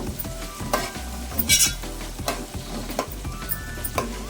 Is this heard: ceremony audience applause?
no